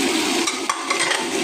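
Potatoes and carrots being stirred in a pot while making Japanese chicken curry, a steady sizzle with soft scraping and occasional light clinks from the spoon, close by and continuous, with no voices.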